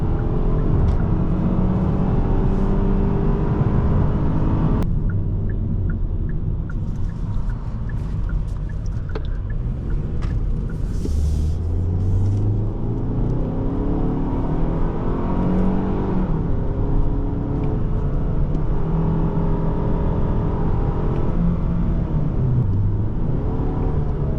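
A 2024 Hyundai Sonata SEL accelerating hard at full throttle from the cabin, a steady loud engine drone that rises in pitch over about twenty-four seconds, with road and wind noise throughout and no talking.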